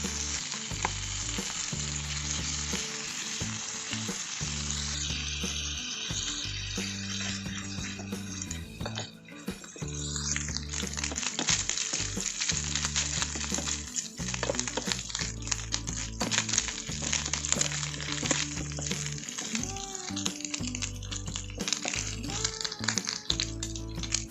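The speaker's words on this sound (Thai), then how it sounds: "ผัดเบคอนให้เหลืองเลยนะครับผม" Bacon frying in a pan, a loud, continuous crackling sizzle for about 25 seconds, broken by repeated scraping and tapping of a utensil stirring the strips, with no talking.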